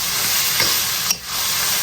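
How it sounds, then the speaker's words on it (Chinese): Doubanjiang chili bean paste stir-fried in hot oil with minced garlic, ginger and scallion, a loud continuous sizzle with a brief scrape of the spatula midway. "下入葱姜蒜末，给它炒香。 豆瓣给它稍微来点料酒，咱来2勺豆瓣酱"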